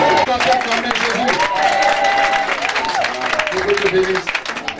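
A church congregation at a Sunday testimony service applauds and cheers to acclaim Jesus, with dense, sustained clapping and voices holding steadily throughout, and tonal singing or calls rising above the crowd.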